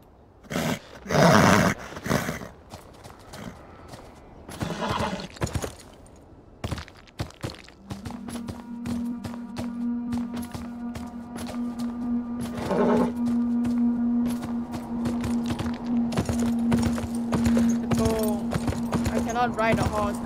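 A horse gallops in the video game Beyond Two Souls, with steady hoofbeats running under a sustained musical tone and frequent talking over the top.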